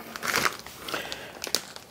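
A plastic piping bag being cut and crinkled in a kitchen while preparing brisket double-baked potatoes, heard as a few short, close crackling crinkles and snips with brief pauses between.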